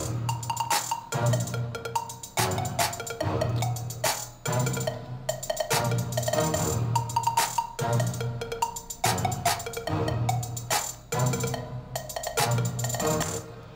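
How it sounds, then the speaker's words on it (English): Plucky wooden synth notes repeat in a steady rhythmic pattern inside an FL Studio trap/EDM beat, playing alongside hi-hats and a clap, loud and continuous with no talking. "Then I've added this wood pluck"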